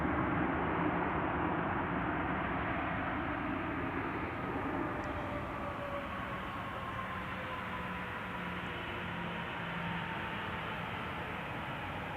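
A jet airliner taking off at Reno airport on a frosty morning: a steady, loud broadband roar that fills the whole stretch, with a slowly sliding engine tone and no talk.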